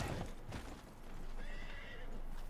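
A horse in Red Dead Online gives a loud, close whinny, followed by a shorter rising neigh and some hoof clatter on the ground, with no talking.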